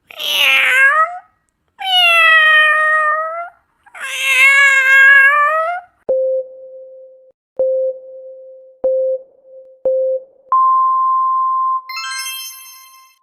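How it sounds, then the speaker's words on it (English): A cat meows three times, long drawn-out cries with short pauses between, followed by a string of electronic beeps and a chime. "A cat."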